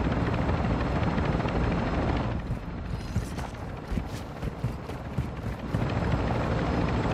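Exfiltration helicopter in a tactical shooter video game, a steady loud rotor roar that carries through the whole stretch, its pulsing chop showing most clearly in the middle.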